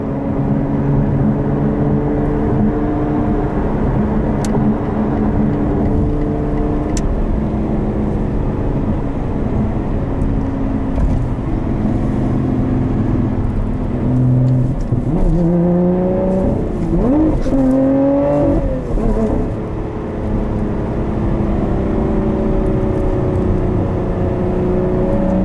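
A 2021 Lotus Evora GT drives with a steady, loud engine drone throughout, rising and falling pitch as it accelerates and shifts gears, with sharp revving sweeps in the middle of the run.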